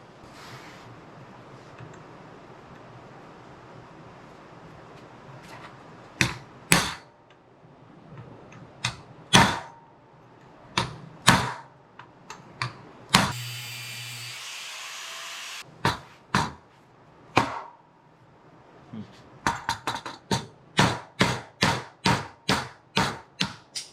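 An old steering wheel is cut off a 1934 Ford steering column: sharp metallic knocks and chops at irregular intervals, a brief harsh buzzing burst midway, then a fast run of repeated strikes near the end.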